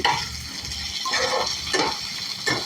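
Chicken for a chicken devil dish fries in a pan, a loud close sizzle rising and falling in bursts as the contents are stirred.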